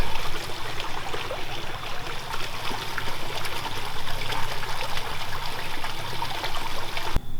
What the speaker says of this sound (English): And the creek is flowing vigorously.